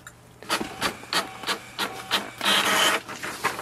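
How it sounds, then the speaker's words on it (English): An HP Envy Pro 6452 inkjet printer prints an information page, with rhythmic mechanical whirs and rasping feed pulses, a sustained louder run near the end, close and alone. "here is the information button which we have to press once and it will print the page"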